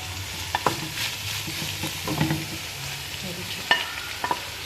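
Macaroni stirred and fried in a pan for chicken macaroni samosa filling, a continuous close sizzle with scattered spoon scrapes and light knocks against the pan.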